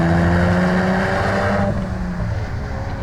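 A 2015-2019 Ford Mustang with an ACCELATEC 2.25-inch axle-back exhaust revs loudly and close by, its steady, droning exhaust note rising and then easing off a little.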